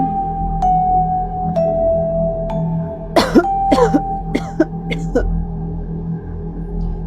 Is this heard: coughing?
yes